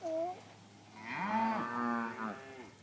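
A cow gives a short low call, then a long drawn-out moo that rises and holds before fading, close and clear over a quiet background.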